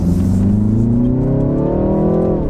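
Exhaust note of a 2020 BMW 330i xDrive pulling strongly while driving, a loud, steady engine drone with harmonics rising smoothly as it accelerates, close and continuous with no talk.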